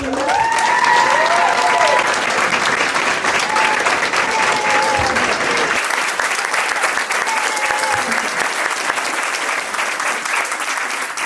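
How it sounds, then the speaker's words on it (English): Audience applause at a graduation ceremony at the CCSF Mission Campus, a broad, steady wash of many hands clapping that carries for the whole stretch, with brief voices heard over it near the start. "Let's give Julita a round of applause"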